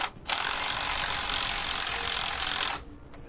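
A 15mm socket wrench tightening a carriage bolt on a helper-spring bracket, a continuous close ratcheting rasp lasting about two and a half seconds, then stopping, with no speech.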